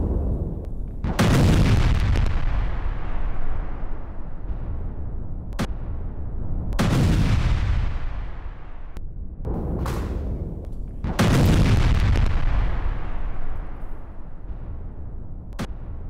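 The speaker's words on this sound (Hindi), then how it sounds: "हिजबुल्ला के हथियार डिपो पर बड़ा अटैक हुआ है।" Explosions hit a Hezbollah weapons depot in Lebanon: about six heavy booms at irregular intervals, several large blasts rolling and decaying for seconds, with sharper single cracks between them.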